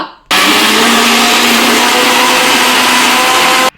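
A mixer grinder roars loud and steady for over three seconds, coarsely grinding broken chillies for corn papad dough, starting and stopping abruptly with no voices.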